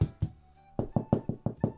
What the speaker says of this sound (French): on va aller toquer chez le lapin crétin normal